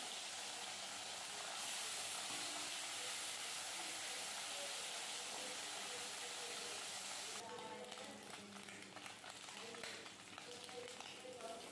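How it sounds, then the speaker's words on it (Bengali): Puti fish fry in mustard oil with a loud, continuous hissing sizzle that shifts to a rougher crackle partway through, with no voice over it. "মাছগুলো এবার ভালো করে ভেজে নেব"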